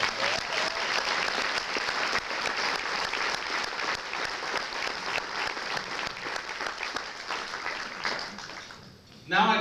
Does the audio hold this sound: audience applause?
yes